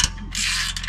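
A hand ratchet loosening heat shield bolts on a Nissan 300ZX, a quick burst of dry clicking pawl ratcheting, close and loud, lasting about a second.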